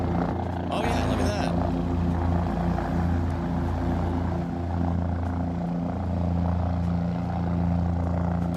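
A loud helicopter roars close by with a steady, droning rotor and engine hum that holds throughout, while a voice briefly cuts in near the start.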